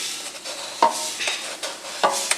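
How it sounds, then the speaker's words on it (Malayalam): Washed rice goes into a pot with ghee for Malabar fish biryani and is stirred, giving soft scraping and sizzling with several sharper knocks of the spoon against the pot, close up, and no one speaks. "ഇതിലേക്ക് കഴുകി വാരി വെച്ച അരി ചേർത്ത് കൊടുക്കാം"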